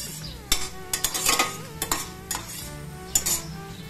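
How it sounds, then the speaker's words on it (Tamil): Urad dal and chillies roast in a pan while a metal spoon stirs and scrapes, giving repeated clinks and knocks over a faint sizzle. "இந்த உளுத்தம்பருப்பையும் போட்டு கொஞ்சம் வறுத்துக்கலாம்."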